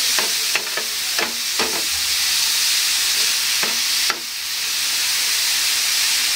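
Chopped onion and garlic fry in a pan over high heat with a loud, steady sizzle. Sharp clinks of a spoon stirring against the pan come at intervals, close up.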